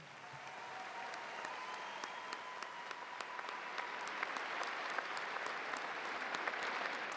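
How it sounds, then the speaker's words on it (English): At a high school graduation ceremony, the audience gives steady, moderately distant applause for magna cum laude graduates, with sharper individual claps standing out and the clapping building slightly over time. "Please join me in applauding the efforts of our magna cum laude"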